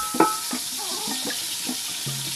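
Onions frying in cooking oil in an African village kitchen, a soft steady sizzle with a few faint clinks and stirring taps, quiet and close.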